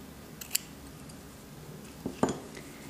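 Scissors trim the yarn tassels of a crocheted scarf, with two quick, crisp snips about two seconds apart, close by and otherwise quiet.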